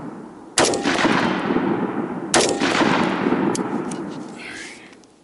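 An AR-15 rifle fires during gas balance testing with the magazine resting on the deck, giving two loud, close gunshots about two seconds apart, each with a ringing decay and faint clinks afterward.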